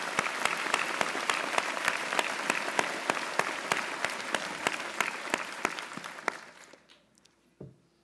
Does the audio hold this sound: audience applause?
yes